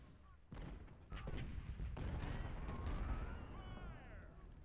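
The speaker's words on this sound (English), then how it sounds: "Enemy artillery!" Booming enemy artillery fire in the video game Ultimate General: Civil War rumbles in several overlapping blasts, loud and sustained, with scattered gunshots layered over the rolling battle noise.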